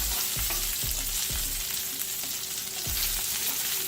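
Bacon-wrapped asparagus fries in a pan with a steady close sizzle, broken by a few soft clicks and scrapes of stirring or turning.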